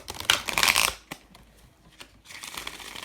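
A deck of oracle cards is shuffled in a loud, crisp riffling burst, followed by a quiet pause, a few light taps, and then softer card handling near the end.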